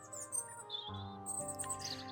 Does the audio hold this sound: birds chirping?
yes